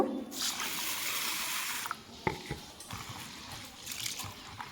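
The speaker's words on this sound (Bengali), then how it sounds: "তো মুগ ডালটাকে আমি প্রথমে ভালো করে ধুয়ে নেব" Mung dal gets washed in water, with a continuous trickle and swish of water, a few small splashes and knocks partway through, and soft handling noise at low volume.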